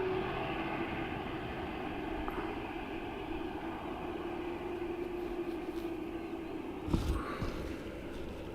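Aircraft EI643 from Prague approaches Dublin Airport, a faint, distant steady engine drone lingering in the background with a soft rise near the end.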